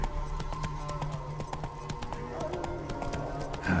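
Hoofbeats of Roach, a horse in The Witcher 3 game, clatter in a steady trotting rhythm, fairly close, mixed with game ambience and background music throughout.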